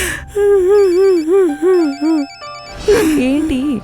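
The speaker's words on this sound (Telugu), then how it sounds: "మీ ఫోన్ రింగ్ అవుతుంది." A melodic phone ringtone plays a warbling tune in short repeated phrases, then cuts off as a voice briefly sounds.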